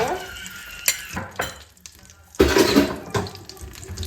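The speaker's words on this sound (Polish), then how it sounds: "Teraz masło mi się rozgrzeje." Butter heats in a pan on the stove, a close watery sizzle and stirring clatter in uneven bursts, with a louder frying surge midway and a quieter stretch before it.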